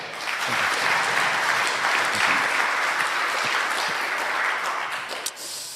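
A church congregation applauds together in a dense, sustained burst of clapping that fills the hall evenly before tapering off at the very end.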